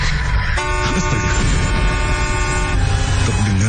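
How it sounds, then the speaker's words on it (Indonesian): A car horn sounding suddenly, a loud sustained honk blaring at the back of an ambulance, steady and close for the whole stretch with no voices. "terdengar suara klakson mobil yang tiba-tiba saja menyala"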